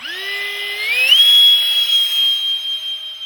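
A Freewing F-8 Crusader 64mm electric ducted fan RC jet spools up to full throttle, its whine sweeping upward in pitch and then holding a loud, steady high scream, close by.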